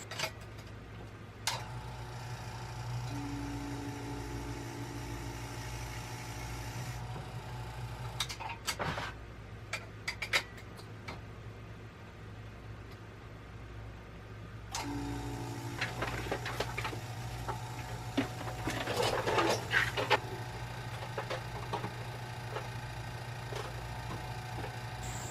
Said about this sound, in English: I put it all into the vacuum chamber and then started pulling the vacuum from it.